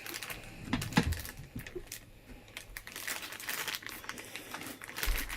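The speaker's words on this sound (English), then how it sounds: "I'm going to put it on top of this plastic so it doesn't scratch my desk" A plastic sheet on a desk crinkles under a biometric pistol safe, giving irregular soft crackles and a few sharper clicks and taps, close and fairly quiet, with no talk.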